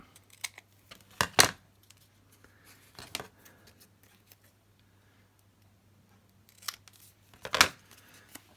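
Scissors cut leftover paper scraps into a tag shape, a few brisk snips in two clusters, close and crisp against an otherwise quiet room with a low steady hum.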